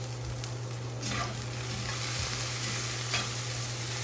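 Garlic and a whole sprig of rosemary sizzle steadily in a hot pan, a constant frying hiss with brief stirring scrapes over a low steady hum.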